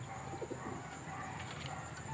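A racing pigeon coos softly at a loft, a few low murmuring coos under steady background hum.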